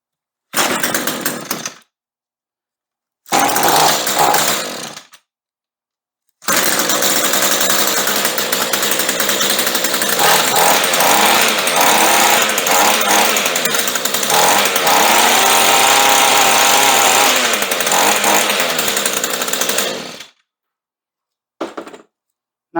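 Echo SRM string trimmer engine after long storage: two short sputtering bursts from a choked start, then a loud, close two-stroke roar that runs steadily for about fourteen seconds before cutting off, with a brief final blip.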